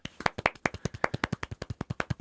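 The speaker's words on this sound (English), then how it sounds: "Please clap." Rapid, evenly spaced handclaps from one or two people during a podcast recording, about twenty sharp, close claps in a steady rhythm with no talking.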